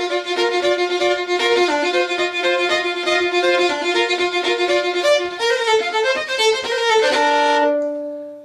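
A solo fiddle plays a brisk variation of the Lightning Hornpipe, bowed notes bouncing in a lilting rhythm, clear and close, fading out on a held final note.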